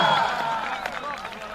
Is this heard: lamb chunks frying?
no